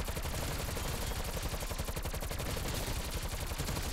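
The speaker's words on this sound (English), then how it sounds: "Stun grenade out. Good effect." A stun grenade goes off in Call of Duty amid a dense, continuous roar of rapid gunfire-like crackle. It stays loud and sustained throughout, with no talk.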